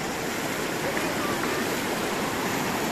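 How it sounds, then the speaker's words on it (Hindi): River in Uttarakhand rushing steadily, a loud broadband roar of flowing water heard close by throughout, with voices talking over it. "यो है बहते पानी के मजे"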